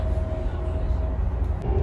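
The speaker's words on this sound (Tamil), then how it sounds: "இந்த ஜி ட்ரெயினில் தான் நம்ம இப்போ போயிட்டு இருக்கோம்" Low steady rumble and hum inside the business-class cabin of a Chinese G-series high-speed bullet train in motion, a continuous muffled drone with a faint tonal whine and no talking.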